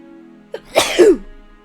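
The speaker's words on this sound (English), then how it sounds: "I'm about to sneeze." A single close, loud sneeze: a quick sharp intake followed by a forceful burst that trails off, alone over faint steady background hum.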